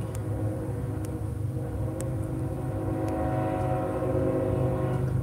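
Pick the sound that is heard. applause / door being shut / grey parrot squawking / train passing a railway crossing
train passing a railway crossing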